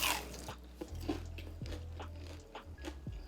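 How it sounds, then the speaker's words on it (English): Close, crisp crunches as someone bites into crispy karaage Japanese fried chicken, followed by a few sharp chewing crackles over quiet room tone. "Listen to the crunch."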